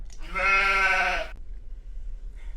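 A single clear, sustained bleat from a goat, about a second long, loud and close, followed by quiet background.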